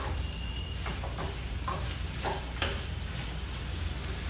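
Carrot, beans, peas and coconut fry steadily in a pan, a continuous close sizzle with a few soft stirring scrapes and clicks, no voices.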